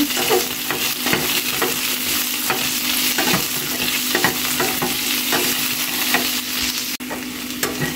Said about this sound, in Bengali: পেঁয়াজ আর রসুন 1 মিনিটের মতো ভেজে নেব।